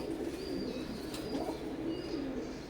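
Imported Oman-bloodline teddy pigeons coo softly and continuously at close range, a low murmuring drone with a few faint chirps above it.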